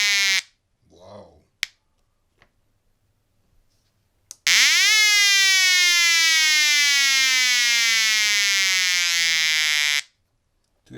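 Homemade push-button electronic siren circuit: after a few clicks and a brief chirp, a loud, piercing harmonic tone rings out steadily for several seconds, gliding downward in pitch before cutting off abruptly.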